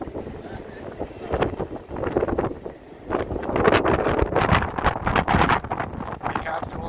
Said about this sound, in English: It's windy here, which is kind of pleasant.